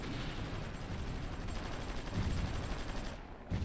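Bombardment in the strategy game Supreme Ruler Ultimate, a dense continuous rumble of distant explosions and rapid firing, fairly quiet, with a slightly heavier burst near the end.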